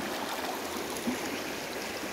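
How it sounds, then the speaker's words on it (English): River water streams and gurgles steadily at close range, a continuous broadband rush with no voices over it. "Look at me, I'm in the river. I'm in the water."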